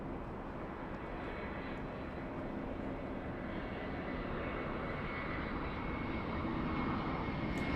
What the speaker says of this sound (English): Emirates 216. Pushing from Tom Bradley International. We have the King of the Skies pushing right now.